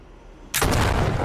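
A gun fires a bullet through a GAC electric-vehicle battery pack with aerogel insulation during a penetration test: one sudden, very loud blast after brief quiet, followed by a sustained roaring wash of noise.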